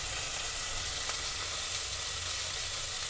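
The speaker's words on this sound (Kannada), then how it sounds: "ಸ್ವಲ್ಪ ಹಿಡ್ತಾ ಮೆತ್ತೆ ಆಗಬೇಕು ಟೊಮೊಟೊ, ಅಲ್ಲಿ ತನಕ ಸ್ವಲ್ಪ ಚೆನ್ನಾಗಿ ಫ್ರೈ ಮಾಡ್ಕೋಬೇಕು ಅದನ್ನು" Tomatoes fry in a pan for a green chicken gravy, giving a steady, close, even sizzle and hiss with no breaks.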